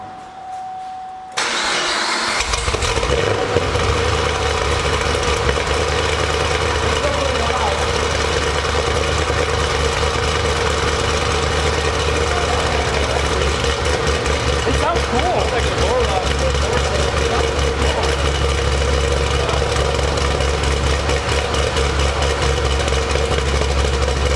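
A Camaro engine cranks and fires up after a moment of near silence, then settles into a loud, steady, rumbling idle with its exhaust cutouts closed, heard close up and alone throughout.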